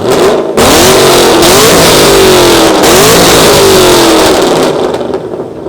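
A modified 2010 Chevrolet Camaro held in park with the brake on, revved hard at an exhaust competition: a loud, raw exhaust roar climbing through repeated throttle blips and sustained high revs before easing off.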